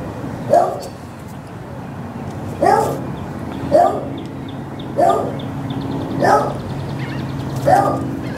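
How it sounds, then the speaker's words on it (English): A dog snarling and yipping at an unfamiliar dog, giving six short sharp yelps spaced about a second apart, close and fairly loud over a low steady background hum. "she will snarl at any new dog"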